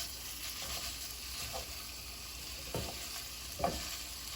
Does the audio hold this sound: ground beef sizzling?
yes